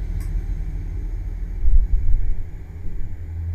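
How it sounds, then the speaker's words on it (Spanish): A car passes outside, heard indoors as a low, muffled rumble that swells in the middle and then fades away, with no talking. "Espera, es que está pasando el coche."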